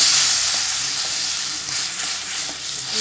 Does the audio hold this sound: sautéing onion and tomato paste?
yes